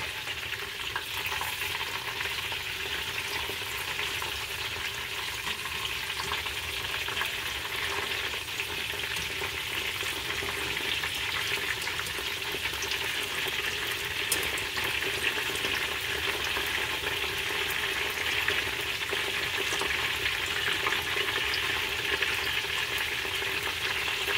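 Vegetable tempura deep fries in hot oil with a dense, steady sizzle that stays loud and close throughout, with no voices over it.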